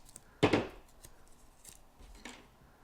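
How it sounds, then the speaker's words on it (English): Masking tape pulled off the roll in one sharp ripping burst, then softer rustling and handling while it is readied for taping broken plastic parts together. "the first thing I'm going to do is just get some masking tape"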